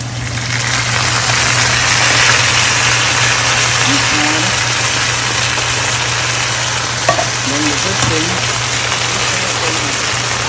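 Food frying and sizzling in a pot on a stove in a home kitchen, a steady broadband hiss with a few faint clatters as the food is turned over, while a low hum runs underneath throughout.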